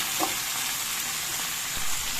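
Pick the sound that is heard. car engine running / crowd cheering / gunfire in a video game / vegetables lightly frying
vegetables lightly frying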